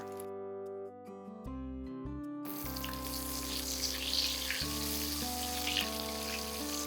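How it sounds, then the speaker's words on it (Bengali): Panch phoron spices and green chillies sizzle in hot oil, a steady crackling hiss that starts abruptly partway through and continues under background music. "পাঁচ ফোড়ন দিচ্ছি পাঁচ ফোড়ন দিলাম কটা কাঁচা লঙ্কা দিলাম"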